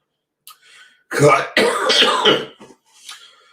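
A person coughs and clears their throat in a few rough, harsh bursts, close by, with a short pause between the fits.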